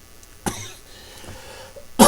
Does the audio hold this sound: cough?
yes